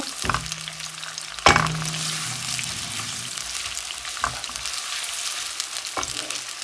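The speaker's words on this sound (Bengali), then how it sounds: "কড়াইতে তেল দিয়ে দিচ্ছি আর পেঁয়াজ কিছু দিয়ে দিচ্ছি" Onions frying in oil in a wok give a steady, close sizzle, broken by a few sharp clanks of a utensil against the pan.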